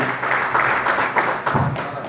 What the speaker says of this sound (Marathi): जोरदार टाळ्या त्यांच्यासाठी